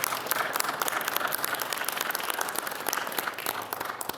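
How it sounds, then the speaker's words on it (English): A crowd applauds at an organ donation press event in Hartford, many hands clapping in a dense, steady rattle that holds for several seconds without voices. "we should give them a round of applause, too"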